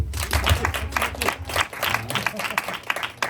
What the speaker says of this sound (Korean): 자, 다 같이 박수.